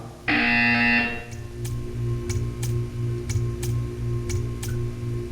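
Loud sustained electronic buzzer from the Portal 2 test chamber sounds for about a second, then gives way to a low machine hum broken by a series of faint ticking clicks.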